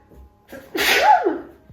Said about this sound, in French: Oh, j'ai éternué.